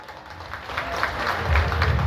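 A theatre audience at an open-air gananatya folk drama performance applauds, the clapping swelling from scattered claps into louder, fuller crowd applause over a couple of seconds.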